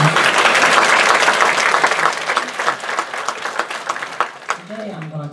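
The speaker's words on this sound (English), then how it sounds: "Give them all another round of applause." A church congregation applauding during a Sunday service, loud dense clapping that gradually thins and fades as a voice begins speaking toward the end.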